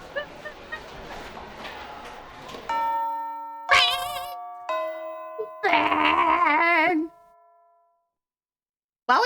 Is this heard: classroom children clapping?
no